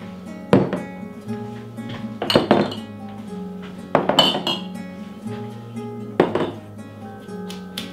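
Glass canning jars clink and knock against a counter and cutting board while being set out for pickling cauliflower; several sharp, close clinks and thunks come in irregular bursts with quiet gaps.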